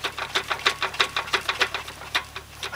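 A spun bearing knocks inside an engine as it is turned backwards and forwards by hand, giving a steady series of sharp, mechanical clunks about five per second, fairly close and with no talking.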